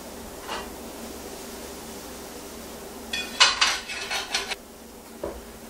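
A utensil scraping cognac-deglazed fond from the bottom of a steak pan, a burst of rapid close metallic scrapes and clinks over a low sizzle, then a final short scrape.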